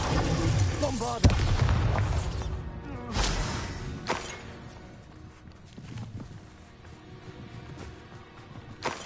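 Bombarda spell explosion in the Hogwarts Legacy video game, a loud booming blast near the start followed by further thuds and rumbling impacts amid busy game sounds and voices.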